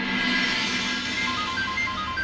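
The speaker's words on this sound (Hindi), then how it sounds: "अरे शायद फोन आ गया।" A phone rings in a television drama scene, a steady electronic ringtone with a repeating tonal pattern that plays on its own, close and fairly loud, with no talking over it.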